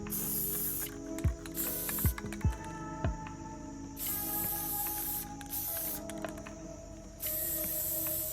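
A can of matte Rust-Oleum polyurethane sprays in several bursts over a PVC airsoft suppressor, each a loud, close hiss, with clicks and handling noises between them.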